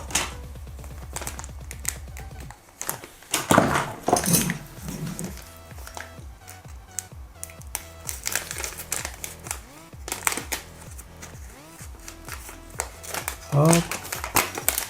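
Crinkly packaging of a small Matek GPS module being opened up close in irregular bursts of crackling and rustling, with someone speaking French at the same time.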